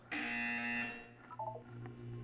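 A loud buzzing electronic test chamber chime from the Portal 2 video game sounds near and clear, holding for nearly a second before a brief descending run of tones and a soft hum underneath.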